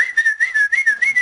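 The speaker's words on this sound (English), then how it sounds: "You whistled?" A person whistles a short, wavering tune alone, with clear, close, bright notes that rise and fall in quick pulses.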